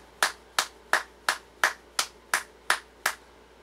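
Nine sharp hand claps in a slow, perfectly steady rhythm, each crisp and close with a quick decay, with nothing else audible between them.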